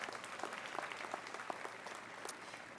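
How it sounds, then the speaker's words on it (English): Graduates at a college commencement ceremony clap as a crowd, a dense steady patter of many hands held at an even level, heard from some distance in a large space. "Give a round of applause to yourself, graduates, for this outstanding number."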